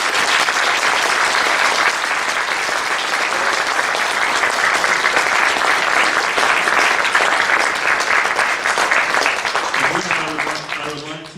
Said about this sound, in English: I would like to ask you all to give them a round of applause